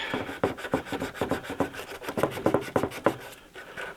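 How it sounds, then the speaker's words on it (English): A car headlight lens being sanded back by hand, giving a run of close, rhythmic rasping strokes about two to three per second that pause near the end. "So, sand that all back."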